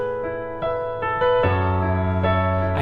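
Piano chords are struck one after another with the sustain pedal down, so each chord rings on and blends into the next. The notes build into a full, lingering wash with no talking.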